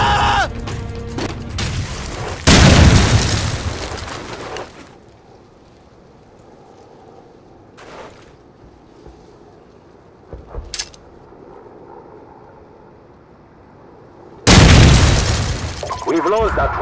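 A grenade blast in Call of Duty 4, a heavy booming explosion near the start followed later by another loud blast, with quieter game sounds between.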